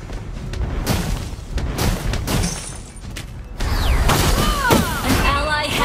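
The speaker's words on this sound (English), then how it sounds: "Your team destroyed a turret." Booming explosions and mechanical clatter as a turret is destroyed in the Mobile Legends: Bang Bang mobile game, a dense burst of impacts followed by whooshing and chiming effects, loud and continuous.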